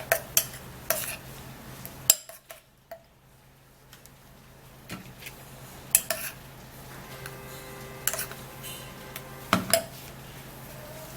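Spoon stirring a cucumber juice face mask mixture in a bowl, giving a series of soft scraping strokes and sharp clinks against the container at irregular intervals, close and fairly quiet with a pause midway.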